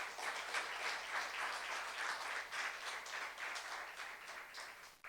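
A church youth congregation applauds during a sermon, a sustained patter of many hands clapping at moderate distance, fairly soft and continuous for several seconds.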